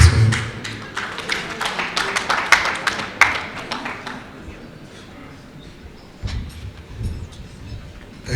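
An audience at a Taraba State stakeholders' session gives a round of applause for the arriving state marshal commandant: scattered, sharp claps for several seconds that thin out, followed by a few dull thumps and a quieter stretch.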